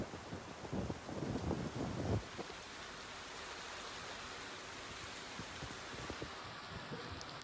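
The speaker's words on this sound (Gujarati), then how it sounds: "જાફરાબાદમાં પણ મેઘરાજાએ તોફાની બેટિંગ કરી ગ્રામ્ય વિસ્તારોમાં ધોધમાર વરસાદનું આગમન છે" Heavy monsoon rain falls over rural Jafarabad in Gujarat, a faint, steady broadband hiss with a brief gustier burst near the start and no voices.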